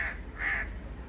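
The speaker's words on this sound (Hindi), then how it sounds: "ये है जी हमारे मुल्क का कौवा और ये साथ में उसका बच्चा बैठा है" A crow caws in a single drawn-out call, fairly close and loud against a steady low background hum, with a young crow perched nearby.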